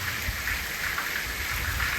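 Steady hiss of heavy rain falling in flood-hit Porbandar district, even and continuous, with a low rumbling underneath.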